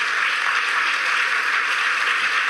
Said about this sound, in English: I think you all deserve a good round of applause.